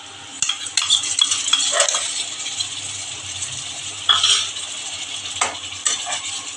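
Onion paste goes into a pan of frying tiger prawns for a prawn tel jhal, with steady sizzling and repeated spoon scrapes and stirring clinks against the pan, close and fairly loud throughout.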